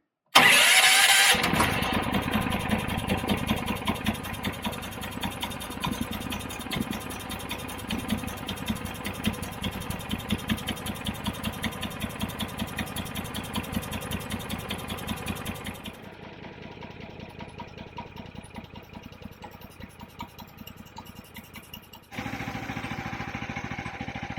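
A petrol engine on a garden wood chipper is started with a little choke and throttle. After a sharp initial burst it settles into a loud, steady running drone, then drops to a quieter idle partway through and rises again near the end.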